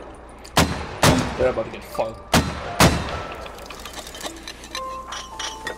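Artillery firing in the video game Squad, several heavy booming blasts in quick succession with lighter impacts trailing off, while a voice talks over the barrage.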